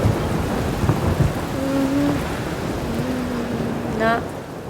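Thunderstorm with rain as a sound effect in a Bengali audio story about a boatman: steady heavy rain hiss with low rumbling throughout, while a brief voice-like tone rises near the end.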